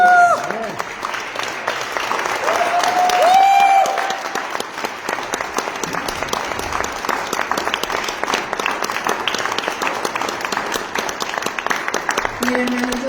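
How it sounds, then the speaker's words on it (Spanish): A church congregation at a Spanish-language sermon bursts into loud, sustained applause, dense clapping filling about thirteen seconds at an even level with faint voices mingled in. "¿Por qué no le dan fuerte aplauso?"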